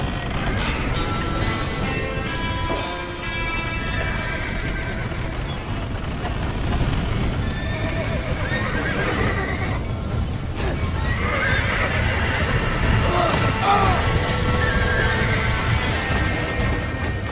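Horses in the Red Dead Redemption video game neigh and whinny repeatedly over a steady clatter of hooves and wind, close and busy throughout, with a few faint voices mixed in.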